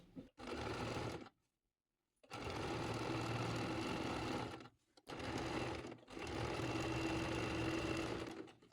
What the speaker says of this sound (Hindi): फाइनली फिर मैं ये कॉर्नर्स को स्टिच करती हूँ।